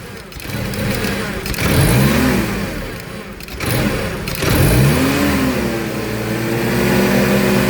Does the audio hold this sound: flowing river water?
no